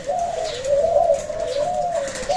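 A trained dove gives a clear, close crowing coo, a wavering sustained call running through the whole moment over faint background noise.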